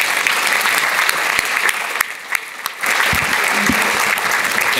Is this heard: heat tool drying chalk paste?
no